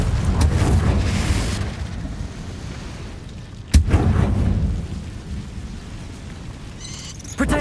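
Explosive spell blasts in the video game Hogwarts Legacy, a series of heavy booming bursts with one sharp crack mid-way, loud and close over rumbling game ambience.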